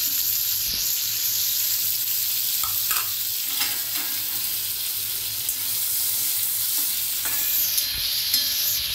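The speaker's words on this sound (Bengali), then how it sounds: "তেলে একটু নুন দিয়ে দিচ্ছি। ম্যারিনেটেড চিকেনটা দেখুন, তাহলে দিয়ে দিচ্ছি।" Marinated chicken frying in hot oil gives a loud, steady, close sizzle throughout, with a few faint clinks of a utensil stirring.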